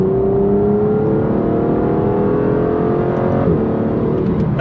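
A 690bhp Aston Martin Vantage V12 accelerates hard, its engine note climbing in a steady, loud rising drone with a brief dip near the end as a gear shift comes through, heard from close by with no voices.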